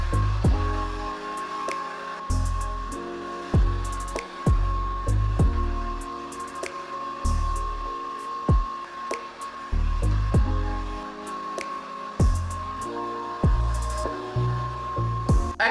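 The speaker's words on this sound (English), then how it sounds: "I use my blow dryer on a cool setting and I just kind of like push it up and down" A hair dryer blows steadily on a low cool setting, its whir rising and dipping in rhythmic swells as it moves up and down through curly hair, with occasional soft clicks.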